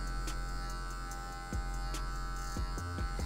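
Electric hair clippers fitted with a medium comb guard buzz steadily and close while cutting afro hair, the hum dipping briefly as the blades pass through the hair.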